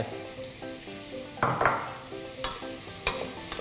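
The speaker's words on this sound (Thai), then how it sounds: "ผัดต่อ ระวังให้ดีนะครับ อย่าให้ไหม้" Sliced mushrooms stir-fried in a pan with chopped fresh herbs, a steady sizzle with several clattering knocks of the utensil against the pan, no one talking.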